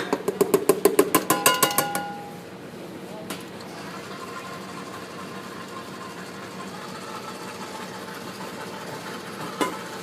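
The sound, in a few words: electric mixer running at medium speed, creaming cake batter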